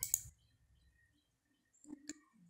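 Faint computer mouse clicks while recording sound in Adobe Acrobat Pro DC, a soft click at the start and a sharper single click near the end amid quiet room noise.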